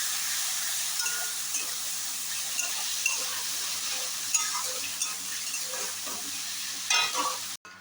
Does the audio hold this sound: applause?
no